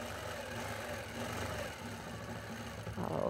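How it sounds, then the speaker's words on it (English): A quilting sewing machine stitches steadily across a quilt, giving a close, continuous rapid mechanical whir with a low rhythmic hum and no talking. "I like the sound the machine makes"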